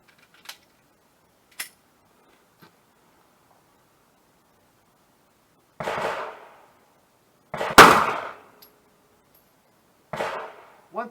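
Three 9mm handloads with 100-grain bullets and HP-38 powder are fired over a chronograph with a shield, as sharp, widely spaced reports with short decays, preceded by faint clicks and otherwise quiet.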